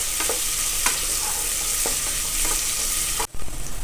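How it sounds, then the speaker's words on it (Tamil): Onions and tomatoes sautéing in a pan for mutton kulambu, a steady close sizzle with a few soft stirring knocks and scrapes, then a brief dip near the end. "இப்போ வெங்காயம் தக்காளிலாம் ஓரளவு வதங்கிருச்சு"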